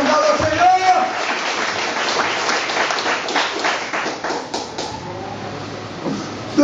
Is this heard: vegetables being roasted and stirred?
no